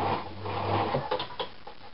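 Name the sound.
sewing machine sewing a knotting stitch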